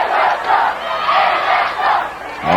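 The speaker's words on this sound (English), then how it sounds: "Arvada crowd breaks into a cheer of Arvada West sucks" Hometown high school football crowd at an Arvada vs Arvada West game chanting a loud, rhythmic cheer in unison, filling the stands with a sustained roar that swells in waves.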